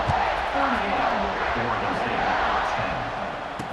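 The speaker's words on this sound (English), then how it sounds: "this crowd is buzzing after that last score" Football stadium crowd at an Ohio State versus Oregon State game buzzing after a score, a steady loud roar of many voices filling the whole stretch, with a commentator talking over it.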